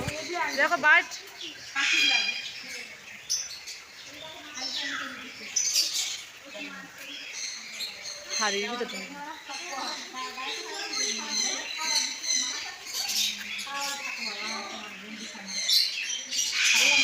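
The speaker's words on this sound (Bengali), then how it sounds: "কত সুন্দর সুন্দর পাখি দেখতে পাচ্ছ, এদের আওয়াজ শোনো তোমরা" Many birds chirp and squawk in a busy chorus throughout, with voices talking over them at times.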